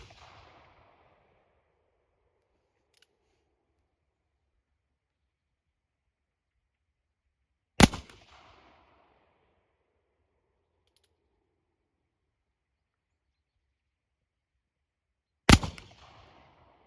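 Two sharp, loud black-powder shots from a Remington 1858 revolver loaded for 23 years, fired about eight seconds apart at cans 20 metres away outdoors, each with a short echoing tail and quiet between.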